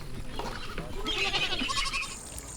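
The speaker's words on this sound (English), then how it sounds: "Bienvenue chez les chèvres." Goats bleat in a Maasai village in Tanzania, several wavering calls overlapping at close to middle distance, with a low background murmur beneath them.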